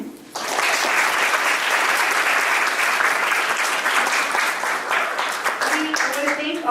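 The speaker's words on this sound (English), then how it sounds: "Just one more round of applause." Sustained audience applause at a youth leadership conference panel session, a dense even wash of many hands clapping that holds steady for several seconds, with a few faint voices coming through near the end.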